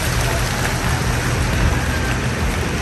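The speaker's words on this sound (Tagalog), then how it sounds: "sisilong lang po muna tayo at malakas ang ulan" Heavy rain pours steadily and loudly, a dense continuous hiss close by with no voices.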